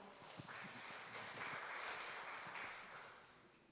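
Applause from an audience at a Korean residents' briefing session for an apartment redevelopment, greeting a university real estate professor as he comes up to speak; a steady wash of clapping lasting a few seconds that builds and then fades.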